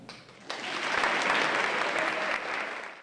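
Audience applause at a university event welcoming an actor as the evening's main guest speaker, a dense sustained clapping that swells after a quieter start and stays loud, with no speech over it.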